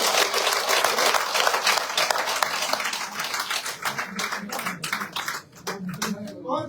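Crowd applause at a political rally in Rajouri and Poonch, a dense roar of clapping that gradually breaks up into scattered, separate claps as a voice rises over it near the end.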